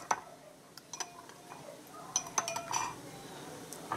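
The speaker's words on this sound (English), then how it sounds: "you want to kind of stir that until it's pretty much dissolved" A mixture being stirred in a bowl for beef lo mein, heard as light clinks and ticks of a utensil against the bowl, scattered and close over a faint room hiss, no talking.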